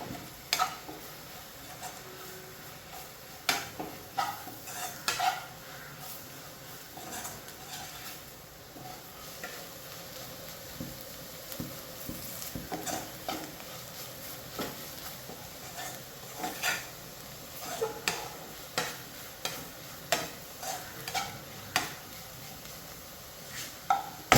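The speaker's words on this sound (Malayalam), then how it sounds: "ഈ പൊടിയിൽ നമുക്കൊന്ന് ജസ്റ്റ് ഒന്ന് പച്ചപ്പ് മാറുന്നോളം വരെ നമുക്കൊന്ന് ഇളക്കി കൊടുത്തൊന്ന് മൂപ്പിക്കാം" Ground spices being stirred and roasted in a pan for kappa and beef, a steady sizzle with repeated scraping spoon strokes and utensil knocks throughout, close by and without talk.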